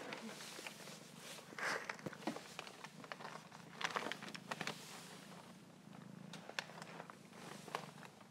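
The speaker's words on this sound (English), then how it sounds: "She's purring." A kitten purrs softly and steadily close by, a low continuous rumble with faint shuffling and small taps over it.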